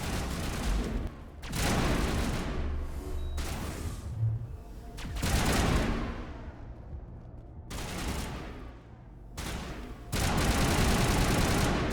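Heavy shotgun blasts in a video game, several loud booming shots spaced a second or two apart, each with a sharp attack and a decaying rumble, no speech.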